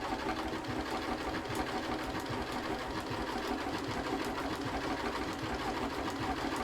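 A sewing machine runs steadily while blanket stitching cushion fabric, a quiet continuous whirring hum with a fine rapid needle patter, alone and unbroken.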